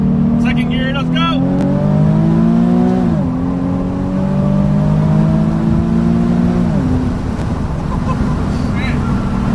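A Nissan 370Z, rebuilt after a wreck, accelerates hard through second gear, its loud engine note rising in pitch with a brief dip at a shift, while someone shouts excitedly near the start.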